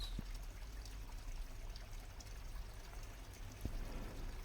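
Water trickling at a koi pond, a soft continuous pouring and dribbling sound, quiet and close, with a couple of faint splashes.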